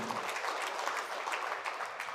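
At a national conference in Kaduna, an audience applauds a newly certified fellow with brief, fairly quiet but steady clapping from many hands.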